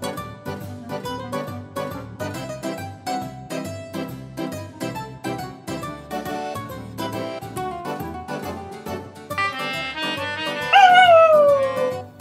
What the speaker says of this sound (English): When you need backup singers, but all you have is a sausage dog.